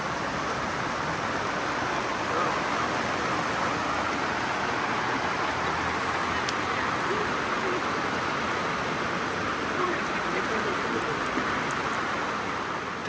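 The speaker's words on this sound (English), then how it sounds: "pouring rain outside. One of those rain squalls just came through." Steady heavy rain from a passing squall pours down in a constant hiss on a Barbados beach, unbroken for the whole stretch, with no voices.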